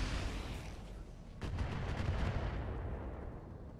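Weapons fire rumbles through a RogueTech video game battle, a dense wash of distant booms and rattling shots with a sharper burst of rapid hits near the middle, steady and fairly quiet overall.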